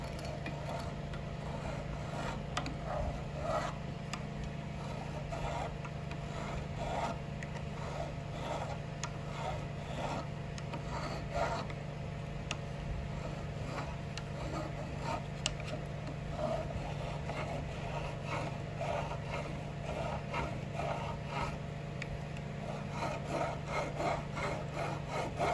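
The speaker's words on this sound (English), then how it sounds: "Got to trim all that off and get that sharp edge off of it. Do this with this side of the little file right here." A small hand file trims the sharp edge of a cast pewter bolster on an antler handle, with quiet, steady rasping strokes that repeat closely and evenly throughout.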